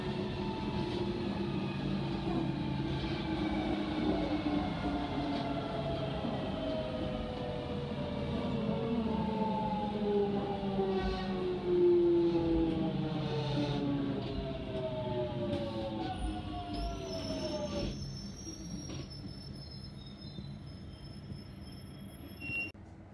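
A London Underground Jubilee line 1996 stock train runs between Canons Park and Stanmore, with a steady loud rumble and motor whine that falls in pitch as it slows, wheels squealing faintly near the end.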